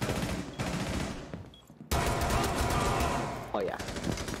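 Rapid automatic gunfire from a fully automatic weapon in Rainbow Six Siege, loud and dense bursts filling most of the moment with a brief lull, mixed with game ambience and voices talking over it.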